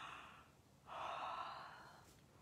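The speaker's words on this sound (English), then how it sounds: "Can you yawn?" A single quiet yawn, a soft breathy exhale that swells and then slowly fades, close to the listener and alone.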